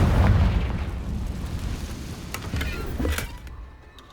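Confringo blasting spell from the Hogwarts Legacy video game: a loud booming explosion near the start that rumbles on, followed by a couple of sharper bursts and crackles before fading out.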